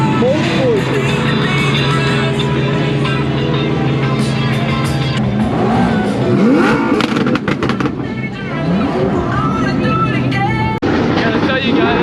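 A Lamborghini Huracan STO accelerates at a supercar meet, its engine rising in loud revving sweeps through several gear changes, with other cars and crowd chatter around it.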